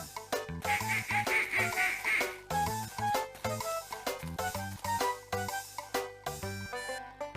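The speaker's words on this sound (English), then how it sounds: "Ducks quack and spend a lot of time swimming on the water." A cartoon duck in The Hoobs, a PS1 video game, quacks in a steady, rhythmic run of short calls. The quacks are clear and close over the game's background music.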